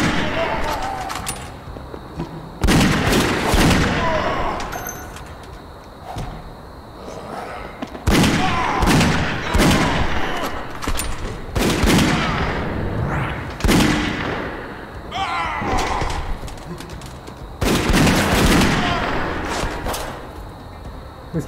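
Gunfire in the video game Dead Second, repeated heavy shots in bursts spaced a few seconds apart, loud and booming, with someone talking in between.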